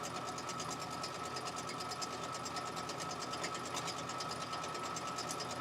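A sewing machine runs continuously during quilting, a quiet, steady mechanical whir with faint rapid ticking, heard close but low in level and without any talking.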